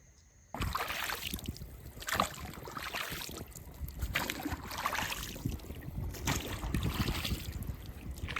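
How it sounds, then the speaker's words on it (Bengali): A small boat moves along a river at night while anglers set lines, with a steady rush of water and wind noise that swells and fades in repeated surges. "এগিয়ে চলেছে নৌকা নদীর মাঝখান দিয়ে"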